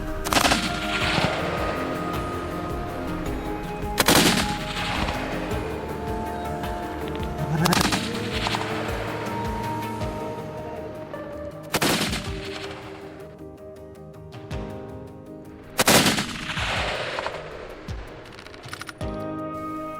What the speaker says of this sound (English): Refusing to give up, he kept firing.